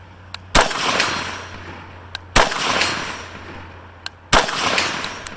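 Three loud rifle shots fired at a 12-inch target through a 1-4.5 scope, evenly spaced about two seconds apart, each a sharp crack with a short rolling echo, each preceded by a faint metallic click.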